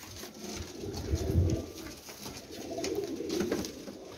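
Pigeons held by a Jhelum pigeon seller coo in low, rolling calls, repeated a few times and fairly close, against a steady murmur of background noise with no talk.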